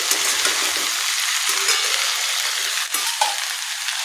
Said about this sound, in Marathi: आणि आता चिरलेली भेंडी टाकूया छान परतून घेऊया